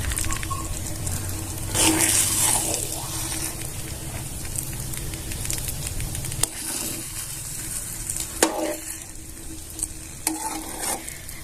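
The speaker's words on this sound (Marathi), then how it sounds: "बघा कसं तुपाच्या बुडबुड येतं ते बघा" Ghee bubbles and sizzles in a pan while rava mahaprasad cooks, a steady crackling fry with occasional stirring scrapes and sharp clinks of a utensil.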